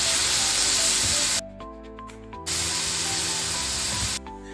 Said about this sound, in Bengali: তারপর তাতে টমেটো পিউরি দিয়ে ভালো করে নাড়াচাড়া করে নিলাম